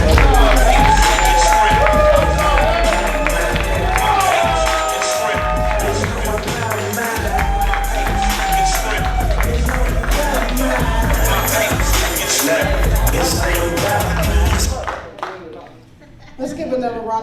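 Audience at a live stand-up comedy show cheers, whoops and claps loudly in a sustained, dense burst that stays full for most of the stretch, then thins and drops away near the end.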